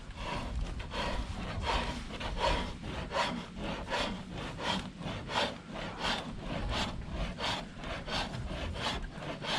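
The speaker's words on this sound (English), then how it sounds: "that's just scraping the hair right off of it" A sharp-edged tool is dragged repeatedly across a deer hide to scrape the hair off for brain tanning, making a steady, rhythmic series of close, rasping strokes about once per second with no talking.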